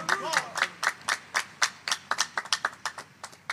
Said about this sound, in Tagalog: Isang malakas na palakpak uli sa ating dakilang Diyos sa buhay.